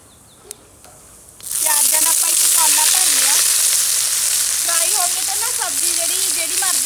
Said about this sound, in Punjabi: ਪਹਿਲਾਂ ਆਪਾਂ ਜੀਰਾ ਪਾਣਾ ਏ ਤੇ ਨਾਲ ਦੀ ਨਾਲ ਆਪਾਂ ਨੇ ਪਾ ਦੇਣੇ ਪਿਆਜ਼